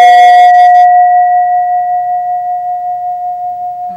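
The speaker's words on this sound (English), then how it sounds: "It's one of the only bowls where the struck tone and the rim tone are the same note." A Mani singing bowl rings with one pure, sustained tone after a brief bright strike, struck and rim tones the same note, slowly pulsing as it fades, close and alone.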